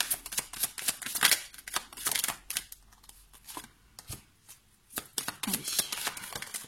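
Slippery tarot cards are shuffled by hand in repeated bursts of crisp riffling and flicking, close and fairly loud, with short pauses between bursts.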